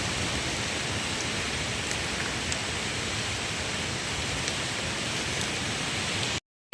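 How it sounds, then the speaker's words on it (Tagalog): Strong typhoon wind roars as a steady, dense broadband rush with no rain, holding constant and loud for several seconds before cutting off abruptly. "Walang ulan, pero ang lakas po ng hangin."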